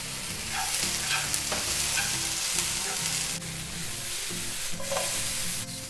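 Mushrooms frying in a pan for vegetable noodles give off a steady, close sizzle and hiss, broken by occasional stirring scrapes and soft taps, with no talking.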